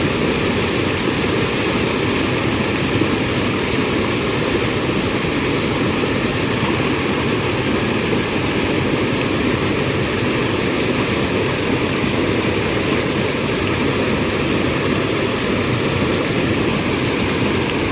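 Water rushes loudly and constantly in a swollen stream where people are catching fish climbing upstream, a steady broad roar close by with no pauses and no voices.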